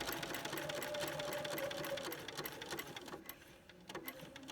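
A sewing machine stitches appliqué in a close, steady run of rapid needle clatter that slows and becomes more uneven toward the end, with no talking.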